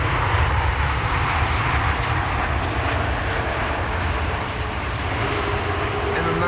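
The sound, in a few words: airplane landing at Amsterdam Schiphol Airport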